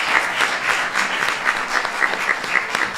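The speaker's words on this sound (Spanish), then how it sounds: "Un aplauso, por favor" An audience claps together during a live show in Barcelona, a steady wash of applause with some sharper individual claps standing out, fairly close and continuous.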